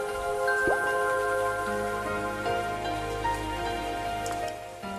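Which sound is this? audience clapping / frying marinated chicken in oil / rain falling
rain falling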